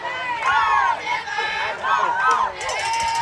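Crowd in the stands at a high school softball game cheering on the Lady Eagles, a steady close hubbub of voices and shouts with harmonic whoops rising and falling throughout.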